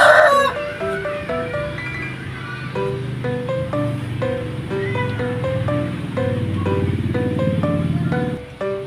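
Chickens from a Rhode Island Red crossbreed crow and cluck repeatedly at close range, mixed with a steady melodic background sound throughout.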